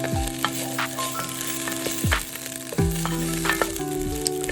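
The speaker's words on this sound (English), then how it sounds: "Saute the rice until all the liquid has evaporated from the rinsed rice and your aromatics begin to brown." Rinsed rice sautéing with aromatics in a pan for Vietnamese chicken rice porridge, a steady close sizzle with repeated scraping stirs and a few sharp utensil knocks, no talking.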